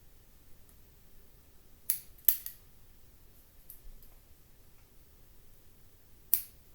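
Sharp scissors snip through a loop of material in a quiet room, giving a few crisp, isolated clicks spaced apart over near-silence.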